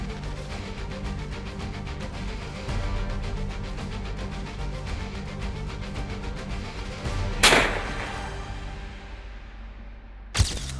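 Rifle shots during a bear hunt, two sharp, loud, distinct cracks several seconds apart, the first with a brief echoing tail, cutting through a steady outdoor background of rustling and low rumble with no talking.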